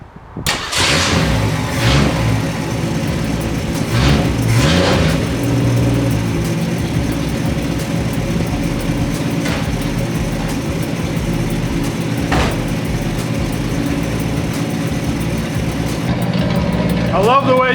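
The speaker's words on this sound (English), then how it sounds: "Obviously, she doesn't have a muffler on her right now, but still, it does not sound bad for a straight six at all." A 1965 Mustang's straight-six engine runs with no muffler, a loud, raw, continuous rumble with a few revs early on, close up and steady throughout, while people talk over it.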